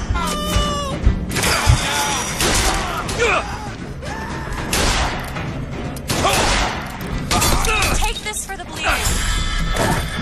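Gunfire and crashing impacts from a firefight in BioShock Infinite's Shantytown, loud broadband bursts that come in clusters across the whole stretch, mixed with game voices and other battle noise.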